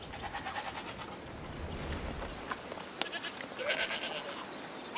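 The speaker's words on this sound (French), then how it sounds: "C'est une de mes chèvres." Goat bleats from a farm animal in the video game A Plague Tale: Requiem, a few short cries over a busy ambient game soundscape with faint scratching and bird-like chirps.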